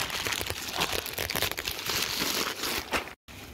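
Plastic shipping packaging for an Adidas jersey order is torn open and crinkled up close, giving a busy run of crackling rips and rustles that stops briefly near the end.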